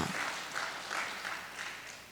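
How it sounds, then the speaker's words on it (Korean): An audience at a church anniversary celebration claps together, a soft, fairly distant wash of applause with a loose rhythm of swells, continuing evenly without voices on top. "박수 다 쳐. 나도 쳤어."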